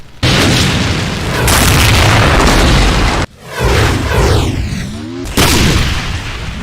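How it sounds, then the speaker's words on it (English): A Revenant variant in a DooM mod fires a dual barrage of BFG 11K shots and heavy railgun blasts: loud booming bursts with sweeping whooshing tails, several heavy discharges in quick succession. "It fires a dual barrage of BFG 11K shots. And also heavy railgun shots."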